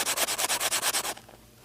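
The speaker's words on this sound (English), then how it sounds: "I'm going to take a sanding block and I'm just going to rough it up" A sanding block scrubs the back of a molded plastic LED blade in about ten quick, even back-and-forth strokes, close and raspy, then stops.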